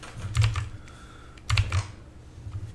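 Bursts of close, rapid clacking from typing on a computer keyboard, with three clusters of keystrokes separated by short pauses.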